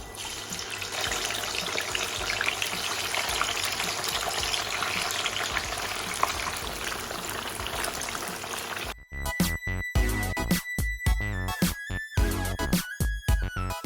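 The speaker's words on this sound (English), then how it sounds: "Okay, let's deep fry our tofu." Stuffed tofu deep-frying in hot oil for Malaysian tauhu sumbat gives a loud, steady, close bubbling sizzle that turns choppier and more broken toward the end, with no voices.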